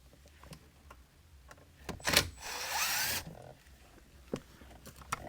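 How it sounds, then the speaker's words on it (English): Phillips head power drill removing screws from a car's interior trim, a brief close whirring burst followed by a longer drill run, with small clicks and handling noises around it. "I'm going to get my Phillips head drill."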